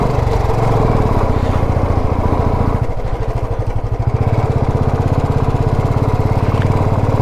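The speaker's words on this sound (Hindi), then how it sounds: "अपाची मोटरसाइकिल है, उनकी पावर ही नहीं मान रही।" Apache 110 cc motorcycle engine labouring up a steep hill road near Mussoorie in the monsoon, a loud, steady, close throbbing drone with rapid rhythmic pulses that run through the whole stretch.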